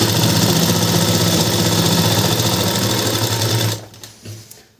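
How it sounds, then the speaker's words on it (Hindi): An electric sewing machine stitches fabric along a marked line in a rapid, steady mechanical whirr that runs loud and close for most of the clip, then stops abruptly near the end. "जो हमने निशान लगाया उसी निशान पे हम इस सिलाई को इस तरीके से मार देंगे।"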